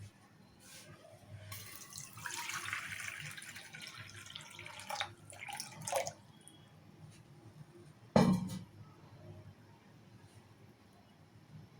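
Water poured from a cup into a kitchen vessel for sugar syrup, a close steady rushing pour for a few seconds followed later by a single splashy thud, with someone talking around it.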